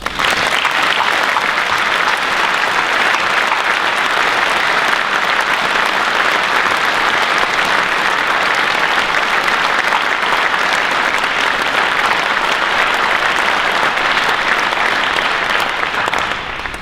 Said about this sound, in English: I'd appreciate it if we could all give them a round of applause